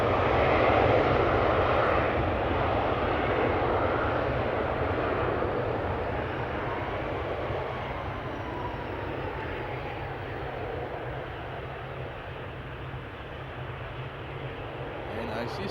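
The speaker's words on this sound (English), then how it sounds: "there is a United Dreamliner taxiing right now" A United Boeing 787 Dreamliner taxiing at Amsterdam Schiphol airport, its jet engines roaring broadly and steadily, loud at first and easing slightly as it moves, heard with no other sound on top.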